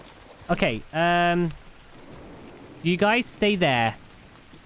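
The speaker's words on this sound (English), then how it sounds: "We've got rain." Steady rain in the video game ARK Scorched Earth hisses softly in the background while someone talks over it.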